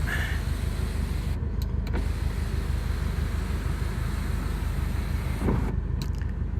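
An electric sunroof on a 2017 Subaru STI slides open with a steady motor hum lasting several seconds, heard close inside the cabin with faint clicks at start and end.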